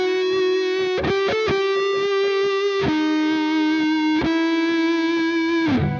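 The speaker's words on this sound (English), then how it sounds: "let's say that we're using a really small vibrato" A distorted electric guitar plays a melody of held notes with only a very slight vibrato, the pitch staying nearly steady; several clear note changes, loud and up front, with no talking.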